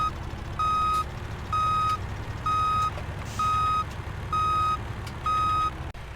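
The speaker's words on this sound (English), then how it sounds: "the very helpful driver has just reversed into here" A lorry reverses into a yard in a video game, its reversing alarm giving six evenly spaced, steady beeps over a low engine rumble.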